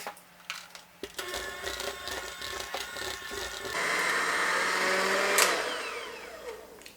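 An electric hand mixer whirs through homemade cake frosting, its motor whine rising in pitch and strength midway, with scraping and clatter over a steady close drone.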